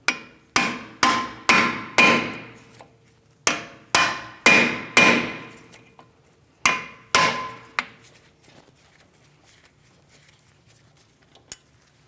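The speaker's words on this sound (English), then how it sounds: "I'm going to be turning this counterclockwise while I tap on the far end here." Repeated metallic hammer blows on an impact driver set into the brake rotor's torque screw on a 2016-2025 Chevrolet Malibu, loud sharp strikes in two quick bursts of four to five, then fading to a few light taps near the end.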